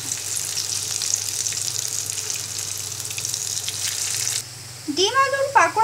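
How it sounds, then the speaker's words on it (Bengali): Egg and potato pakoras deep frying in hot oil give a steady, close crackling sizzle that fills the first four seconds, then drops quieter as a voice starts speaking over the frying. "এবার পাকোড়াগুলো ব্রাউন কালার করে ভেজে নিব।"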